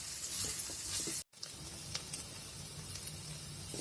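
Cauliflower shallow-frying in a pan gives a steady, close hiss of sizzling oil with faint crackles and a brief stir, broken by one moment of silence.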